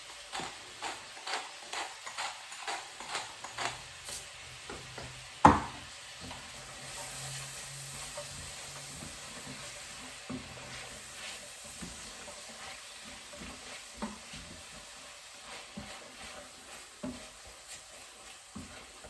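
Salted and peppered vegetables cook in a pan for chicken fricassee, releasing moisture that deglazes it, with a faint steady sizzle and a string of soft scraping stirs, one sharp clank midway.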